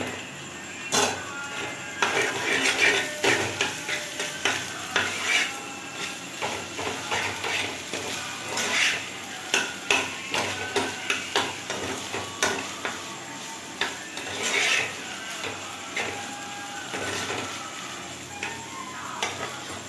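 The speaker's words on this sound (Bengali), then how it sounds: "এবার আমি এই ম্যাগিটা, সেদ্ধ করা ম্যাগিটা আমি দিয়ে দেবো মধ্যে।" Boiled Maggi noodles are stirred through a sweetened mixture in a pan, with a steady sizzle and irregular clicks and scrapes of the utensil against the metal throughout, close and fairly quiet.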